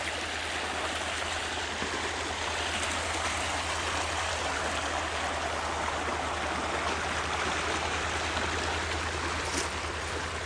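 A creek flows at the edge of an orchard with cherry and nectarine trees, giving a steady, close rushing and burbling of water throughout, alongside a constant low mechanical hum and no talking.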